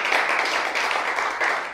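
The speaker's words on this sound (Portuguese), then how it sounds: "Pode aplaudir o Senhor Jesus?" A church congregation claps in unison after a sermon, a dense, steady burst of applause filling the room for a couple of seconds with no voices over it.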